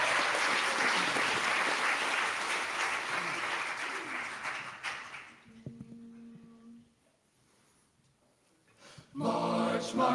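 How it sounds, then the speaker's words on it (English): An audience in a Presbyterian church applauds a musical director about to sing a solo: dense clapping that fades out after about five seconds, then a quiet stretch with a brief tone before singing begins. "Give him a big round of applause, folks."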